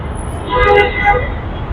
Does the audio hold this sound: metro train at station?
yes